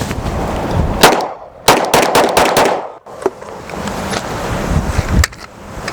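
Glock 48 pistol firing at trash outdoors, several sharp loud shots in quick bursts with gaps between, close and dry, followed by a couple of later single shots.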